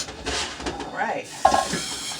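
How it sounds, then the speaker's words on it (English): Noodles are folded gently into a mixture in a frying pan, giving soft stirring scrapes over a light sizzle, close and fairly quiet. "all I got to do is mix that up in there. Just fold it. I don't want to break any of the noodles"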